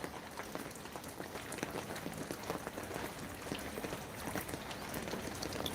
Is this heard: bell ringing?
no